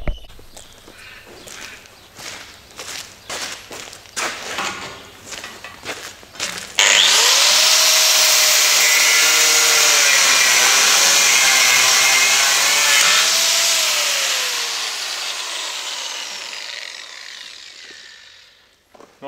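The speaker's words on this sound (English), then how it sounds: "So fingers crossed we can get at it with a grinder and cut these last couple, and it falls out." Angle grinder cutting the last bolts on a combine harvester rotor: after several seconds of clanking and footsteps, a loud, steady, close-up high-pitched grind runs for about eleven seconds, its pitch dipping under load before fading out.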